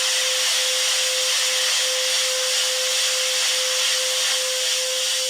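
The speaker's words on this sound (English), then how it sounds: "this is the sound of the vacuum cleaner." A recorded vacuum cleaner sound is played back through an electronic sampler during a live music set in Berlin. It is a loud, continuous broadband whoosh with a steady motor whine that holds the same level throughout, with no talking.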